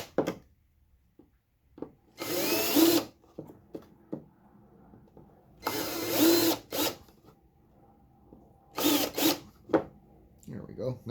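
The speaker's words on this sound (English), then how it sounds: "you got to have the old handy dandy countersink ready to go. Clean that out." A countersink bit drills out paint-filled pre-drilled countersinks in three separate short, loud whirring bursts, with quiet handling clicks and taps in between.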